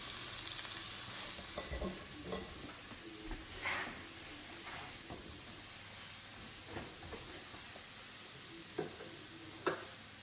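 Sliced onions sizzle in a teaspoon of olive oil in a pan, a steady soft frying hiss running throughout with occasional sharper crackles and pops.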